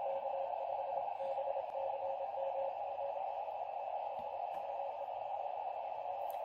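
Amateur radio station signal on 7033 kHz, received by a ham operator during a DX pileup, heard as a steady, strong tone with band hiss and faint static crackles running throughout, with no talk.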